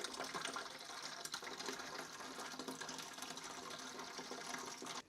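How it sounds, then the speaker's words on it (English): Cleaning liquid drains from the tank of an ultrasonic cleaner for car parts into a Tupperware container, a steady close trickle and splash of liquid running without pause. "I'm just going to take a little bit out of the tank and put it into the Tupperware"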